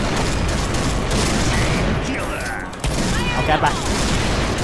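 Continuous gunfire from the shooter game Point Blank rattles in a loud, dense stream of shots, with a voice speaking over the shooting.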